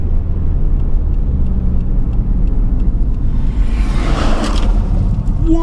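A lightweight modified Subaru Impreza P1 drives with a steady, loud engine rumble and road drone from inside the cabin, with a brief whooshing swell partway through.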